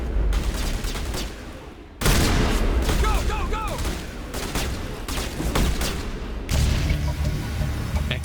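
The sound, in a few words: gunfire in Mass Effect Legendary Edition video game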